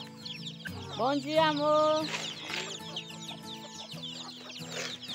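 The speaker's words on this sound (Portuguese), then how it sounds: "agora tá aquelas galinhadas, ó" Chickens cluck close by at a rural home while someone feeds them, with a rooster-like call rising among the clucks and a person briefly talking over them.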